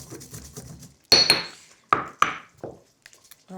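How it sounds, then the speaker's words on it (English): A pestle strikes and grinds whole spices in a mortar for a paneer curry, giving a few sharp knocks and clinks with short gritty scraping in between, close by, with no one speaking. "bash those in my pestle and mortar first just to bruise them and get the fragrance coming through"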